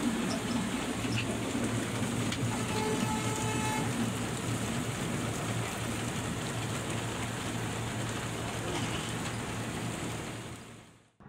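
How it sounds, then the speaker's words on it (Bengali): Heavy rain drums steadily on a stopped bus, heard from inside as a dense, even hiss with a low hum underneath, lasting throughout and fading out at the end. "প্রচুর বৃষ্টি হচ্ছে।"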